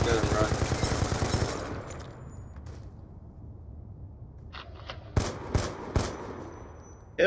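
Rapid bursts of automatic gunfire from an M8A1 rifle in a shooter video game open loud and fast, fade to a quiet stretch, then return as a few sharp single shots near the end.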